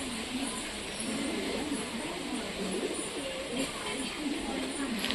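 Giribaz pigeons bathing outdoors give soft, steady cooing beneath a constant wash of outdoor noise, with no clear gaps.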